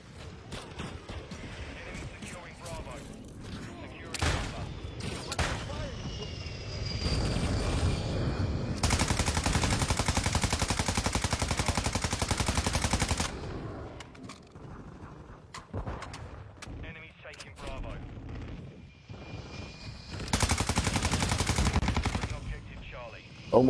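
Video game gunfire crackles in bursts of rapid automatic shots and sharp single reports, with loud sustained volleys and quieter pauses between, heard alongside occasional player chatter.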